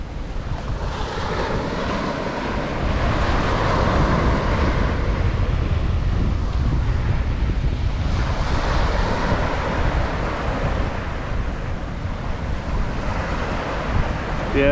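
Waves rolling onto a beach in the Philippines with steady wind buffeting the microphone, a continuous loud roar and hiss of surf throughout, no talking.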